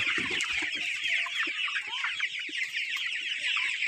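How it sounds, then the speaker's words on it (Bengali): A flock of around 500 tiger breed chickens, each 1 to 1.5 kg, clucks continuously in a busy, overlapping chorus with scattered scratching and shuffling, at moderate distance. "এখানে প্রায় 500 মুরগি আছে।"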